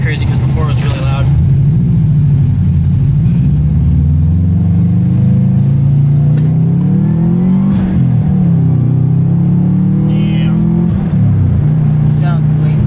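A 2002 Subaru Impreza WRX with a turbo-back exhaust accelerating, a loud, close, deep rumble that climbs and falls through several rising engine pulls, with a voice talking over it at times.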